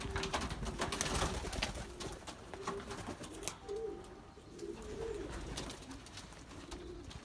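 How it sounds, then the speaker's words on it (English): Belgian racing pigeons from a flock of more than a hundred birds coo softly and intermittently outdoors, with several low murmuring calls over steady background noise and occasional flutters. "That's the rest of the flock separating."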